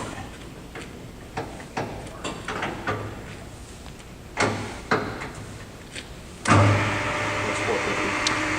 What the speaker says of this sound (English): you've seen the spindle go in a bunch of different speeds